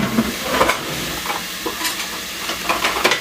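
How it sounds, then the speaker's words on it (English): A wooden spoon stirs food frying in a pan for a personal lasagna, with a steady close sizzle and repeated scraping strokes against the pan, no talking. "we're gonna start stirring that up"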